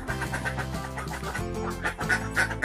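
A flock of egg-laying ducks quacks continuously, a dense overlapping chorus of nasal calls at close range with steady background din.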